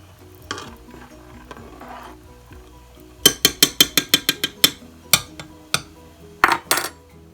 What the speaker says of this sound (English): you want to give it a stir so it can get coated with the olive oil.